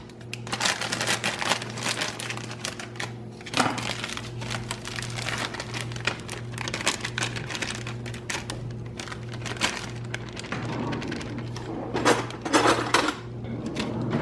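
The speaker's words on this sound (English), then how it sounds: "And you mix it until it's blended." Custard tart crust mix is stirred in a bowl, making close, uneven scraping and crinkly gritty scuffs with small knocks against the bowl, continuing in irregular bursts without speech.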